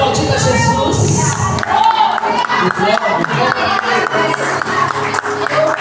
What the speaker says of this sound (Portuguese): Sendo aplaudido a Jesus.